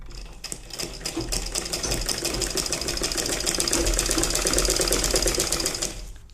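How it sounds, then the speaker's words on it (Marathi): A sewing machine stitching baby petticoat fabric, running as a fast, steady mechanical whir and needle clatter that holds at close range for several seconds before stopping, with no speech. "दोन्ही पार्ट्स इक्वली जोडून घेत आपण स्टिच घालत जायची आहे."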